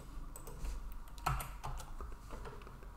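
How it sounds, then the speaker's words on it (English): Computer keyboard keys tapped while entering a Linux terminal command, a quiet run of irregular clicks with one slightly louder keystroke partway through. "So I'm going to type log d1."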